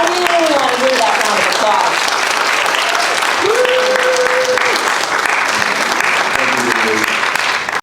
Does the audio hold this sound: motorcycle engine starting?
no